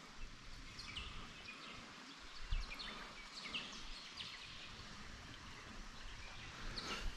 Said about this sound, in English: all we can hear is little waterfalls and the birds